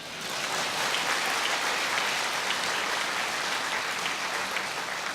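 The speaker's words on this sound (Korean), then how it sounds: "박수 치세요." A church congregation claps together at a Sunday service, a dense, even wash of applause that holds steady and loud for the whole stretch without letting up.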